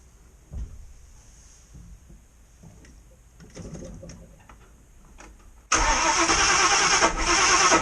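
A Ford Falcon XC 351 V8 wagon cranks with a few quiet starter turns and clicks, then fires abruptly into a loud, rough, close-up idle that holds steady to the end.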